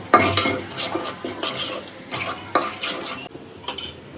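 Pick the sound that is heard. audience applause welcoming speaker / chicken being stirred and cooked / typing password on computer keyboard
chicken being stirred and cooked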